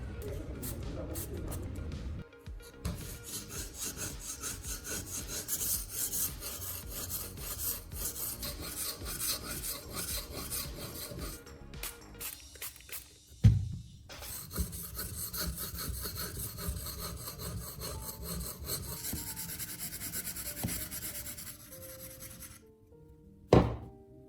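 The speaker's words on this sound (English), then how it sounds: "Place the bevel of the chisel flat on the stone and begin moving it back and forth in even strokes" A chisel bevel rubbed back and forth on a sharpening stone, a continuous gritty rasping in rhythmic strokes, close and fairly loud, broken by a couple of sharp knocks and brief pauses.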